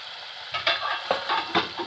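Masala with turmeric fries in a pan for mutton kofta korma, a steady sizzle punctuated by several quick spoon scrapes against the metal, close and clear.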